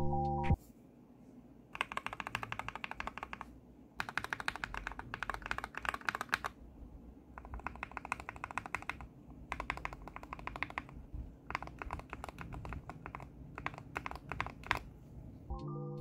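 Typing on a mechanical keyboard fitted with Tealios switches gives a muted, steady clatter of keystrokes, close and fairly loud, arriving in several dense bursts split by short pauses, with a deep low thump running under the clicks.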